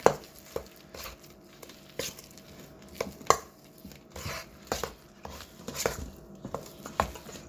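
Crumb cake batter, thinned with extra milk, is mixed by hand in a bowl, with the utensil knocking and scraping in an irregular rhythm of soft thumps, close by and moderately loud.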